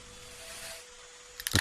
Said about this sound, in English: The popping of the toaster